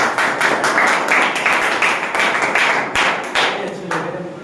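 A seminar audience claps steadily and enthusiastically for several seconds at the closing, a dense wash of hand claps with no voices standing out.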